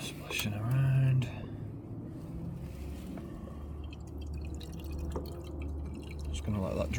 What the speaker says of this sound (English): Just gonna let that drain for a minute.